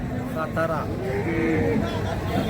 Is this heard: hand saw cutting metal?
no